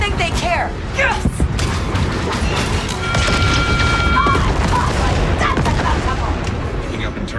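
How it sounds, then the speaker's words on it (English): In Star Wars Outlaws, a series of booming explosions and crackling blasts rolls through a dense, chaotic din, with bursts and rumbles layered under voices talking. "Picking up internal explosions."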